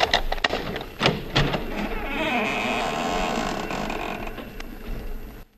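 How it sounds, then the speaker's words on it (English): A front door swings open on a squeaking hinge, giving a sustained creaking, grinding squeal over several seconds, mixed with clicks and knocks near the start, fairly loud and close. "Maybe you heard the hinge squeak a little."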